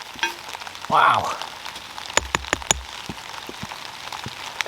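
Hail pelts the ground outdoors under trees, a brief rushing swell early on, then a quick cluster of sharp, close impacts over continuous light patter.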